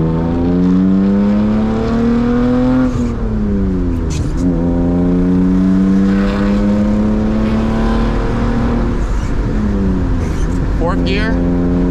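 A manual BMW E36 328i engine revs up and drops during rev-matched downshifts while driving on a rainy morning, loud and close with rising and falling engine tones, and someone talks over it.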